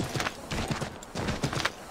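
Galloping horse hooves while riding through Boston in Assassin's Creed III, a fast, close rhythmic drumming of hoofbeats with no talk.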